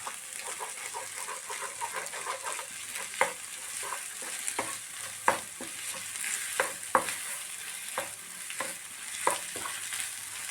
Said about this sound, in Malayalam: നന്നായിട്ട് മിക്സാക്കി കൊടുക്കാം നന്നായി ചിക്കാം